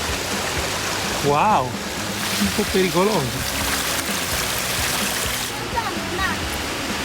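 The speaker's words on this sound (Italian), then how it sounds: "andare a riempire questo bicchierozzo di acqua che scorre dal fiumiciattolo" A small mountain stream beside snow in Norway flows in a constant rushing wash, with people talking over it.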